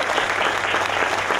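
An audience at a live hockey Q&A event with Florida Panthers goalie Jose Theodore gives a round of applause, dense steady clapping throughout without talk.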